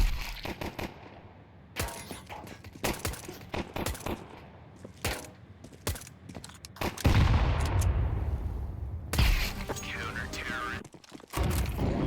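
Counter-Strike 2 gunfire arrives as sharp cracking shots, single and in quick bursts, spread across the scene with a longer heavy barrage in the middle, and a person talking in between the shots.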